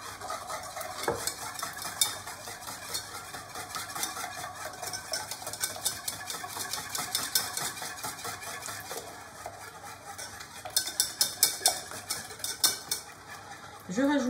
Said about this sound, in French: Vous remuez le tout.